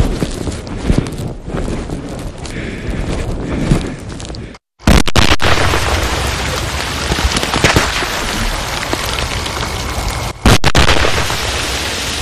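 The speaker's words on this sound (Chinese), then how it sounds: "我们眼看着这个炸药去爆炸" Explosives detonate during bomb disposal training: a sharp blast breaks in midway after a short silence, followed by loud debris and rumble, with a second burst near the end.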